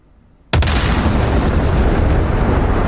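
Sudden loud boom from weapons fire in the DCS World combat flight sim, erupting after half a second of near silence and followed by a sustained, heavy roaring rumble that stays loud to the end.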